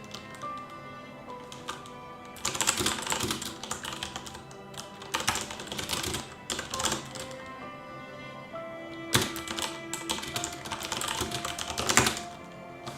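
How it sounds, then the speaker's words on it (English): Fingernails clatter on a computer keyboard in bursts of fast, clicky typing, with short pauses between runs; no one speaks. "It's always different typing, bare-fingered or nailed"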